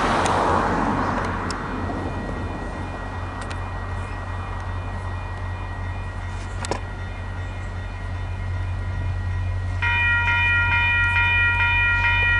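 A VIA Rail train rumbles past steadily, then its K3H multi-tone horn blasts loudly and holds for the last few seconds.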